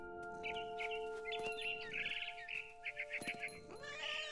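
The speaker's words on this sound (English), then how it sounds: "Then I heard chirping outside my window. It was a barn swallow going back to her nest." A barn swallow chirps in the video game What Remains of Edith Finch, with quick bursts of twittering calls over a soft, steady musical drone.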